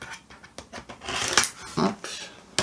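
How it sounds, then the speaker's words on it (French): Packing tape on a cardboard parcel is cut open up close, giving a quick series of crisp snips, clicks and papery rustles of uneven rhythm and loudness. "J'ai coupé le scotch."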